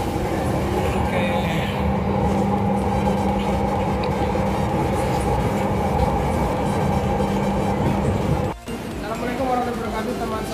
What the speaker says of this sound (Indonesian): hari ini sore kita naik atau mencoba naik LRT Palembang